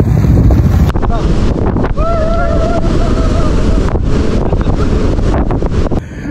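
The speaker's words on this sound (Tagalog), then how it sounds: "Grabe yung hangin. Lakas ng hangin." Strong wind buffets and roars against the microphone in a steady, loud rush throughout, with a faint tonal whine briefly rising through it, outdoors in Infanta, Quezon.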